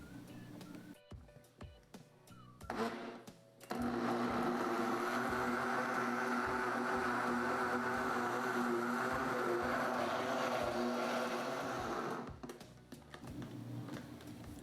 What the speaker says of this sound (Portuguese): E vamos bater mais uns 2 minutinhos aqui a gelatina para ela se misturar por todos os ingredientes